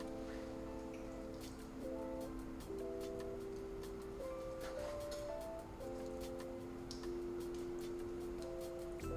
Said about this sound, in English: now I'm gonna chop up my chicken